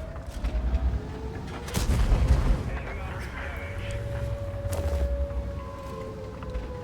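A tank's main gun fires in World of Tanks, two heavy booming blasts spaced a few seconds apart over a low rumbling battle backdrop, with a voice faintly present.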